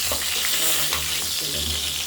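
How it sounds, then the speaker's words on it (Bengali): Potatoes fry in hot oil with a constant dense sizzle and faint stirring scrapes, close and continuous throughout. "আলুটাও হালকা করে আমরা ভেজে নেব"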